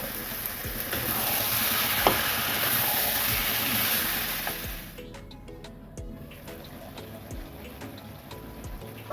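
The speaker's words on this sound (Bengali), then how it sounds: "এক চামচ নুন দেবো আর এক চামচ হলুদ দেব দিয়ে মাংসটা ভালো করে কষিয়ে নেব" Mutton with salt and turmeric sizzles loudly in a pan for the first half, then the frying drops to a softer bubbling with scattered stirring clinks and scrapes.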